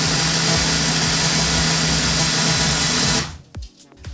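A Ninja Blast Max blender runs loudly with a dense whirring motor for about three seconds. It cuts out, then gives a few brief stuttering restarts as its preset pulses automatically.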